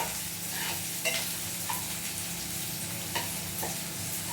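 Sprouted moong thoran ingredients sizzle steadily in a pan, a constant frying hiss broken by occasional scrapes and clicks of stirring, close and unaccompanied by talk.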